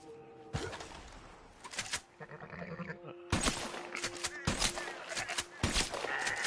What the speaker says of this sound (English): There's a sheep.